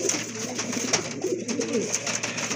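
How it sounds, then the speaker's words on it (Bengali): A pair of pigeons offered for sale coo softly and repeatedly, low rolling calls running through the whole stretch with faint sharp chirps above, no voices over them. "এটা কিন্তু খুব ভালো মানের এক জোড়া কবুতর, খুবই অ্যাক্টিভ আর ফ্রেশ কবুতর"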